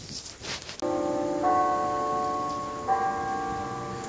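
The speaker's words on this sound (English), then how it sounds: "bells that went off" Church bells ring near a cemetery at Halloween time, two clear resonant strikes whose tones sustain and overlap, following a brief patch of rustling outdoor noise.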